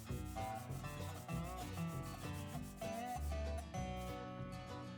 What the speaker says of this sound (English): I started to make myself a little flat sanding station where I could sand down the top and bottom of the box